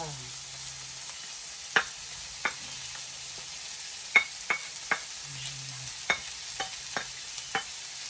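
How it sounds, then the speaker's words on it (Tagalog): Pechay (bok choy) sautéed with leftover chicken sizzles quietly in a pan while a spoon scrapes and taps against it about ten times in an irregular rhythm, close up and with no voices. "gisa nga patchoy. Patchoy nga ginisa."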